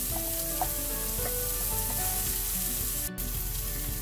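Burger patties fry in a pan, giving a steady, close, dense sizzle that runs unbroken and fairly even for a few seconds, with small pops and crackles rising over the hiss.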